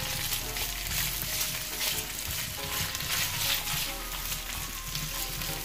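Garlic, ginger and onion frying in a pan make a steady, dense sizzle that continues evenly throughout, with faint stirring underneath and no voices.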